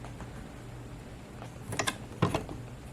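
A sewing machine presser foot is lowered and clicks onto its bar, giving two quick pairs of small mechanical clicks and snaps, close and fairly quiet, with no talking.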